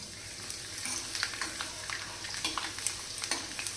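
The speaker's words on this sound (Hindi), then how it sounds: "अभी हम इसमें डालेंगे जीरा और इसके बाद में हम डालेंगे कटा हुआ लहसुन" Cumin seeds and chopped garlic sizzling in hot oil, a crackling, spitting fry with frequent scraping stirs, close and lively over a low background hum.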